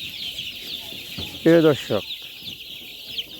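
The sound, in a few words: tiger breed chickens clucking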